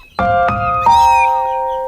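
Loud, close cat meows, two short calls followed by a longer drawn-out one, sounding tonal and clear against a quiet background.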